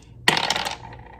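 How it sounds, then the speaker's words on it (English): Dice tumble onto a hard surface in a single quick clattering roll, close and crisp, settling within about half a second amid a quiet room. "let's go ahead and roll the dice and see how many prompts I have to pick this month"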